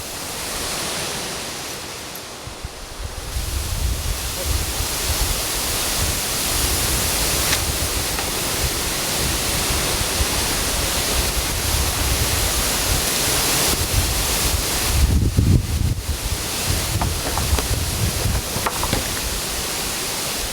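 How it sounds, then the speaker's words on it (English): Strong wind roars steadily through the Alaska wilderness around a cabin, a dense broadband rush with gusts swelling louder near the end, no voices. "Boy, it's getting really windy."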